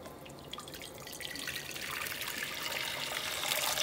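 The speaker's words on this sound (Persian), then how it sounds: "آب اضافه میکنم" Water streams into a pot while chow mein is being cooked, starting as soft dripping and swelling into a steady, brighter splashing pour that grows louder toward the end.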